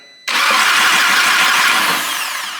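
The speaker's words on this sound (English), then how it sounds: "we're going to give her our first test start" Audi A3 with a freshly replaced engine firing up on its first test start: after a quiet moment the engine catches abruptly and settles into a loud, steady idle, close by, with no talking.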